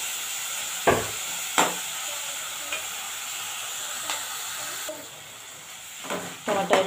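Tomatoes frying in a pan over a medium flame for a coconut prawn curry, a soft continuous sizzle punctuated by several sharp spatula scrapes and stirs, close and fairly quiet.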